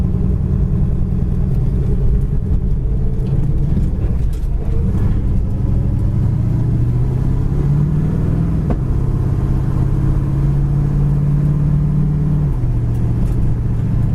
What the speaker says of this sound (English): the car goes right down the road really nice